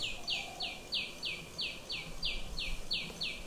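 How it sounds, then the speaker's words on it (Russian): Tiny sunbird in Vrindavan, India, calling a rapid series of about ten short high chirps at a steady rhythm over quiet background noise. "The bird making that sound is a little tiny sunbird."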